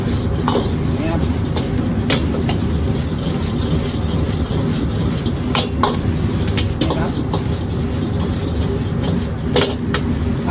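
Mixed vegetable fried rice being stir-fried in a Chinese wok, a continuous loud sizzle under frequent metallic scrapes and clanks of the spatula against the pan, heard up close.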